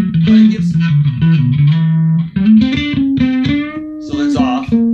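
Bass guitar played through a Darkglass Microtubes 500 amplifier with its distortion blended into the clean signal, heard as a loud sequence of gritty, sustained bass notes and short melodic phrases without talk.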